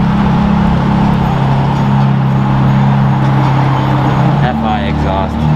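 A sports car fitted with an FI exhaust rumbles steadily up close with a deep drone that shifts pitch slightly near the end, while voices talk over it.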